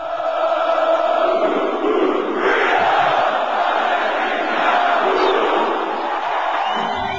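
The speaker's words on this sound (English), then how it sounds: "His vision of financial freedom moves the crowd to a chant we hear over and over again." A large audience at a Quixtar motivational event chants and roars together in a loud, sustained wall of massed voices that swells and holds for several seconds.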